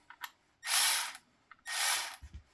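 A Milwaukee M12 battery-powered ratchet wrench, about half charged, runs in two close, loud whirring bursts of roughly half a second each. Small clicks sit between the bursts and a low thump comes at the end.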